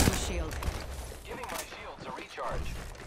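Gunfire in a shooter video game, several bursts of shots mixed with game effects and a voice talking over the action.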